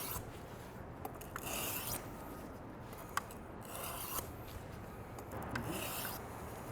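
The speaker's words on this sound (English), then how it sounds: "now I'm just gonna go 1 and 1. So I make sure I'm doing it evenly, sharpening evenly on both sides." A Victorinox knife edge is sharpened on both sides in alternating single strokes, giving a steady, close-up, raspy rubbing sound that runs in long even passes with a few small clicks, and no talking.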